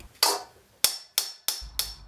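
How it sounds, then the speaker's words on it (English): Leather mallet strikes bronze against a curved, shaped steel anvil while bouging a podform sculpture: five sharp, ringing blows at an uneven rhythm, each with a bright metallic tail fading before the next, close and clear with no talk. "using a leather mallet, I bouge the metal, striking the bronze against the shaped anvil"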